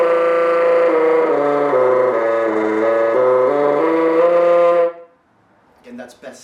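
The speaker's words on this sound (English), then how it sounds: "You can also do something called flatter tongue." Bassoon playing a sustained middle-register note with flutter tonguing, the reed buzz giving a rapid rolling flutter across about five seconds, loud and close, then a brief pause and a little soft noise at the end.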